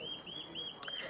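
Two roughly five-week-old young turkeys give a thin, high, sustained peeping call, fairly quiet and close, with a brief extra chirp near the end.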